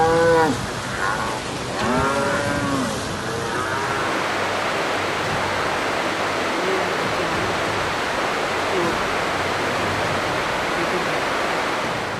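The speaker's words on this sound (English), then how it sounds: "this herd of cows clearly does not belong in this harsh environment" A herd of cows moos loudly and repeatedly in a harsh storm, the calls overlapping for a few seconds before giving way to a dense, steady roar of heavy rain and rushing water.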